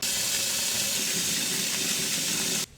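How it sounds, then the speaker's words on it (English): Water rushes steadily into a kitchen sink being filled to wash turnip and collard greens, a close continuous hiss that cuts off abruptly near the end. "We got our sink filled with water, 1 and 2, because they tend to have grit on them"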